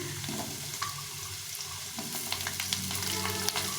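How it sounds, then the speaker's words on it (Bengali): Potato and carrot sizzle in a pan as they are stirred, a continuous close frying hiss with occasional scrapes of the spoon and no talking. "আলু আর গাজরটাকে আর একটু ভেজে নেবো"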